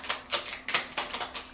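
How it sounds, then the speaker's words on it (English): Rapid bursts of crisp papery riffling as tarot cards are shuffled, several quick flicks in an uneven rhythm, close by with no talking. "I don't usually shuffle it that way."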